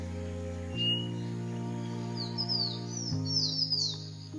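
Small birds of Borneo feeding in treetop foliage chirp and tweet in short, high bursts, repeated several times over a steady low hum of the rainforest.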